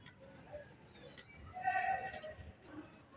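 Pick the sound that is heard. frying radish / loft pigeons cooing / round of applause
loft pigeons cooing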